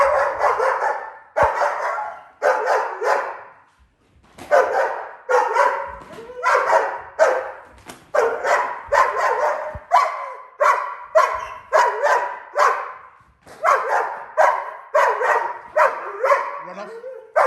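A protection-trained dog, just over a year old, barks in rapid repeated bursts during a home invasion training exercise, loud and close with brief pauses between volleys; a handler's voice calls out in between.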